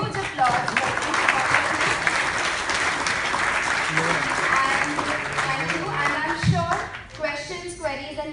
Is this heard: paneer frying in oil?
no